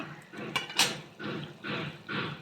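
A lid coming off a pot of cooking fish and potatoes, a couple of sharp metallic clinks followed by a few soft bursts of steam and rustle, quiet and close.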